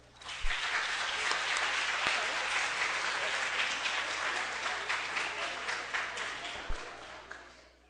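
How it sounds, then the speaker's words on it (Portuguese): Youth council meeting audience giving a round of applause, dense clapping that swells quickly and holds steady for several seconds before tapering, with a few louder thumps near the microphone. "Eu vou pedir uma salva de palmas para ele agora."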